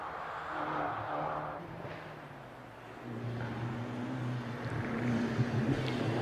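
Ferrari touring car, a classic V12 type, climbing the Prescott hill climb course, its engine a steady, moderately distant drone that swells louder and rises in pitch toward the end, with no talk over it.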